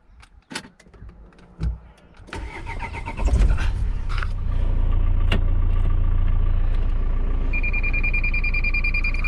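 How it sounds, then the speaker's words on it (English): A 2005 Renault Espace engine cranks and catches after a few clicks and key sounds, then settles into a steady, close idle, with a faint electronic tone appearing near the end. "How about try start it?"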